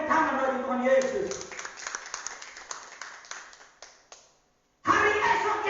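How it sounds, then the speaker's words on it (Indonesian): An Indonesian church congregation claps its hands in praise, a run of loose, scattered claps that thin out and fade to silence, with voices heard before and after. "Beri tepuk tangan bagi Tuhan Yesus."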